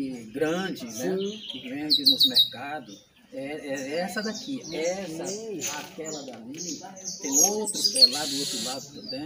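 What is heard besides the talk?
bird singing in trees overhead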